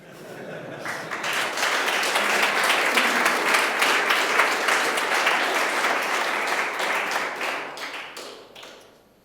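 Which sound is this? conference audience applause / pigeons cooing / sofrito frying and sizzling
conference audience applause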